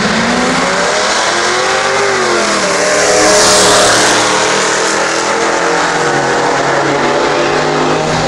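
A Saturn and a Ford Mustang drag racing, with loud car engines roaring and revving hard as they pass close, rising to a peak midway, then a sustained engine drone with no talk.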